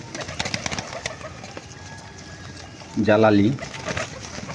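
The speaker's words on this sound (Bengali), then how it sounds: "সবচেয়ে এখানকার মধ্যে লাকি কবুতর আমার" Pigeons in a loft coo once in a short, rolling burst near the microphone, standing out above a low murmur of background noise and other birds.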